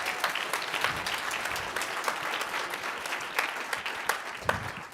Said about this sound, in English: Give them another round of applause on that.